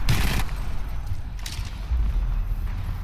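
Main-gun fire from a pilot's weapon in Titanfall 2, loud bursts with a heavy, booming low end: one blast at the start, another about a second and a half later, and a rumbling tail between them.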